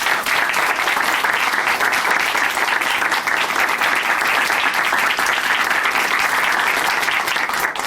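Studio audience on a Korean Christian television program gives encouraging applause for a guest, a dense, continuous roar of clapping held at full strength for several seconds.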